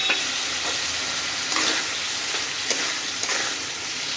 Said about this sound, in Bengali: আলুটাকে দিয়ে আরও বেশ কিছুক্ষণ আমরা একটু কষিয়ে নেব।